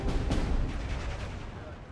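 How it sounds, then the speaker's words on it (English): Off-map artillery fire in the Steel Division 2 war game, a dense rumbling barrage of blasts that stays loud and steady for two seconds. "artillery, what?"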